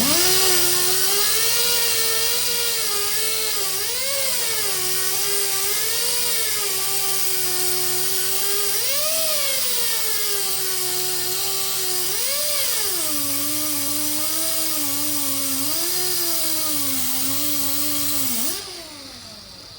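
A coarse Scotch-Brite pad on a power tool flattens fabricated spoiler parts, giving a loud, steady whine whose pitch sways up and down as the load changes, running continuously with no talk until it cuts off at the end.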